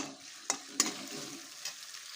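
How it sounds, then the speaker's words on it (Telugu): Onions frying in oil with curry leaves make a steady, moderate sizzle, with two sharp spoon taps and a soft stirring scrape in the pan. "వాటిని కూడా బాగానైతే ఫ్రై అయితే చేసేయండి ఎర్రగానైతే వేపుకోవాలి ఉల్లిపాయలు కూడా"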